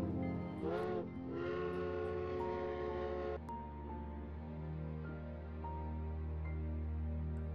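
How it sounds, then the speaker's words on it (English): A steam train whistle sounds in long tonal blasts over a hissing rush of steam, with a brief break and then a sustained, slightly wavering tone continuing for several seconds. "A train blew its whistle as if to say"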